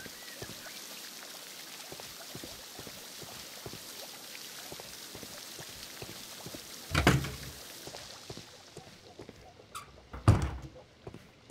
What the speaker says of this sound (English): These doors make a lot of noise.